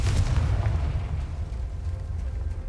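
A Confringo fire spell explodes in Hogwarts Legacy, a deep rumbling boom that fills the clip, heavy and sustained in the low end with a crackling edge.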